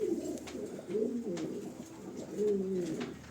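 Danish tumbler pigeons cooing close by in soft, throaty, rolling phrases, two or three bursts in succession over a quiet background hiss.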